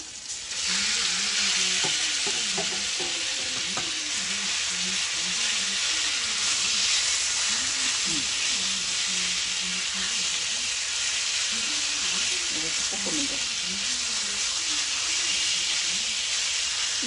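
Food sizzling loudly and steadily in a preheated, oiled Skeppshult cast iron pan, a dense unbroken frying hiss that holds close for the whole stretch, with faint clatter underneath.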